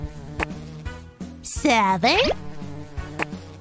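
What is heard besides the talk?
bees buzzing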